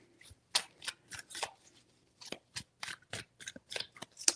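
Tarot cards shuffled by hand in quick, crisp riffling bursts, a dozen or so short snaps close up with brief pauses between.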